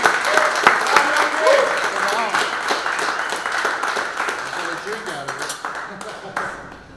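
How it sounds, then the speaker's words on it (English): An audience applauds the winner of a nineball open final in Seattle, a full round of clapping that starts loud and gradually tapers, with a few voices speaking over it. "a big round of applause"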